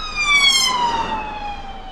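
A police siren wails loudly and steadily with a descending pitch, as if the vehicle is passing by, over faint road noise.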